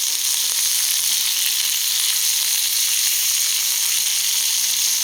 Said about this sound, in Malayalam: ഒരു ചെറിയ തക്കാളി മുറിച്ച് വെച്ചിട്ടുണ്ട്, അതുകൂടെ ചേർത്ത് കൊടുക്കാം.